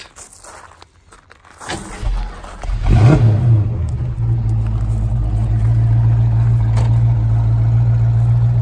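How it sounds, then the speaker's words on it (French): A 1965 Ford Mustang convertible's V8 cranks, catches and starts with a rev, then settles into a loud, deep, steady idle close by. "vous allez entendre ce magnifique son du V8"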